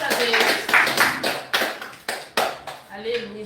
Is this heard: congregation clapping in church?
yes